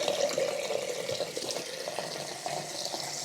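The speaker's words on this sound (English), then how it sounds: "That's water." Tap water runs into a sink at home in a continuous splashing stream, moderately close, with small fluctuating splashes and no talking.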